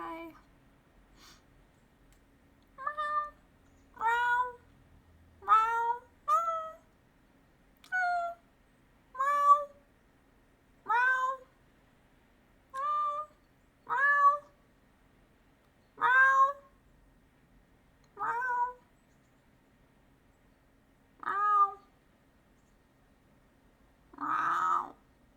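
A person imitates a cat, voicing about a dozen separate meows one after another at an unhurried pace, close and clear against near silence, ending in a breathy sound.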